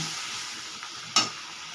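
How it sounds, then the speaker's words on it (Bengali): Pomfret curry in a mustard-poppy paste gravy simmers in a pan with a steady close hiss and bubbling, broken by one sharp brief clatter near the end; nobody speaks. "দেখুন, তরকারিটা ফুটছে।"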